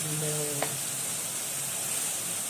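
Alexandrian-style liver sizzles steadily in a frying pan while being stirred with spices, a constant close frying hiss with one brief scrape of the spoon and faint tonal hum in the background.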